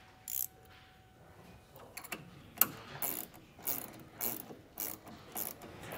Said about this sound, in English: now I can just tighten the second one